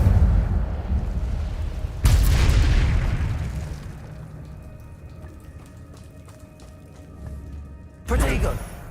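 The Incendio fire spell is cast in Hogwarts Legacy, giving a sharp whooshing burst of flame followed by a crackling tail, then a second fiery burst near the end.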